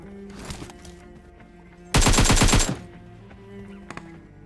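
Rapid automatic gunfire burst while pre-firing around a corner in PUBG, roughly a dozen close, loud shots in under a second, set against quieter game ambience with scattered footsteps and faint effects.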